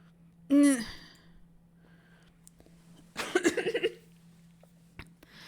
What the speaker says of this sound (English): Air pours into my lungs and out again in a ragged gasp